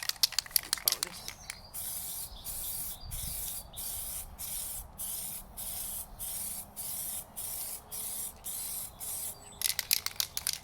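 An aerosol can sprays paint onto a Nissan CA18ET engine in a steady series of short hissing bursts with brief gaps, close and fairly loud, with shaking and handling rattles at the start and end.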